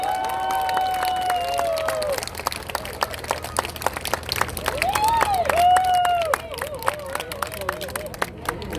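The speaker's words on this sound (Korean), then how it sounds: "다시 한번 큰 박수 보내주시기 바랍니다." Crowd at a Korean political campaign rally claps and cheers in bursts, with crisp applause and crowd noise under an amplified voice speaking over loudspeakers.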